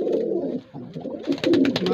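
A newly paired couple of pigeons coo close by: soft, throaty rolling calls that dip briefly, then return with sharper repeated pulses.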